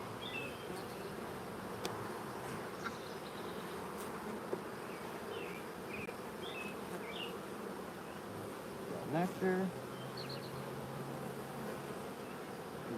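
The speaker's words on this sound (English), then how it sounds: "We got angry bees." Agitated honeybees buzz steadily and close around an opened hive during an inspection, a dense continuous drone with individual bees passing near, while a person speaks briefly.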